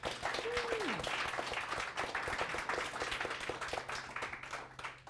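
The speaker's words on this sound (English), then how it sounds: "let's get a round of applause for our guests." An NFT conference audience applauds continuously after a fireside chat, a steady even patter of many hands clapping at moderate distance, with a brief whistle near the start.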